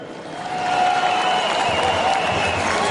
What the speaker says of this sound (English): how about another round of of applause for all of our dancers here